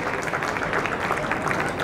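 A crowd claps steadily for a newspaper employee honored for 39 years of work, the dense applause continuous and even throughout at moderate loudness, with no voices.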